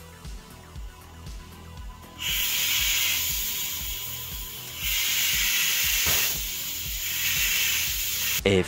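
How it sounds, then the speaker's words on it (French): Oil being pumped into a Mercedes 7G-Tronic 722.9 automatic transmission on a W204 C63 AMG, a steady loud hiss and spray that starts abruptly, surges in waves and holds over a low rhythmic mechanical knocking underneath. "c'est parti pour injecter 4 litres d'huile"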